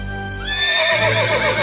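A horse neighs loudly and close, a long whinny that rises, wavers and trails off, with no other sounds around it.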